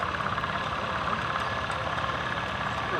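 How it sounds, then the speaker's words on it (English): A small petrol engine on a Ransomes tracked tractor with a cultivator hitched behind runs steadily at a heritage weekend parade, a continuous close idling chug with a faint rhythmic knock throughout. "See his little engine out the front here."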